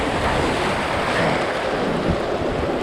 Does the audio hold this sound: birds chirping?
no